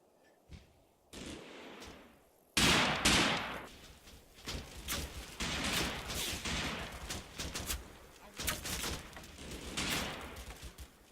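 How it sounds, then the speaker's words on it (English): Gunfire and machine-gun suppressing fire from an infantry platoon advancing on a farm in the WWII game Combat Mission Final Blitzkrieg, with sustained bursts, scattered individual shots and louder close volleys, no talking. "On the left, 2nd platoon lay down suppressing fire as they approach the farm."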